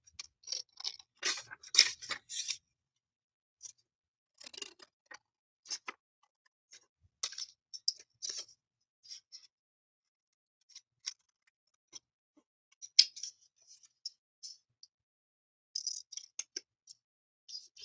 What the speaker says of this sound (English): All right, let's cut it out.